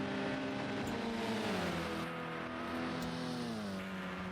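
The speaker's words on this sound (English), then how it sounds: "You can hear the limiter bashing from everyone" Several touring car engines in a Snetterton racing sim scream at high revs and bounce off the rev limiter, producing a dense, continuous buzzing drone with wavering pitch lines, loud and sustained throughout.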